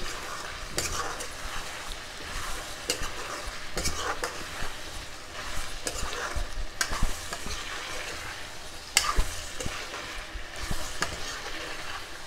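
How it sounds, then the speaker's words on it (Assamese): Duck meat cooking with pumpkin is stirred in a pot, spoon scraping and clattering in irregular bursts over a steady oily sizzle, close and without talking. "মই মাংসখিনি ভালদৰে লৰাই দিওঁ।"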